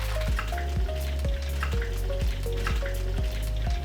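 Garlic, chilli and curry leaves frying lightly in hot oil, giving a continuous close sizzle with a regular pulsing thump running through it, and no voices.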